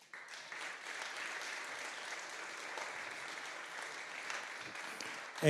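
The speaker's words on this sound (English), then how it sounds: "I'd just like to ask you one more time to give a round of applause for the judges." An audience at a university entrepreneurship innovation challenge final claps for the judges: applause starts abruptly, holds an even, fairly distant roar for several seconds, then ends in a louder close thump.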